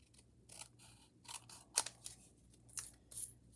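Scissors snip through a die-cut paper card of a small house, a series of close, crisp cuts with a few sharper snaps and quiet handling in between.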